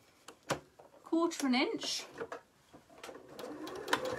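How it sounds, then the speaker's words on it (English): A sewing machine stitches down a quilted hot water bottle cover in short bursts, with a person speaking over and between the mechanical whirring. "So we're just going to stitch this down"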